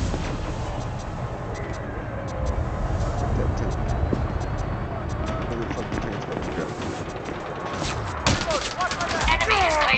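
Gunfire in the Elite Dangerous space game crackles in rapid bursts over a dense layer of game effects, with voices talking throughout.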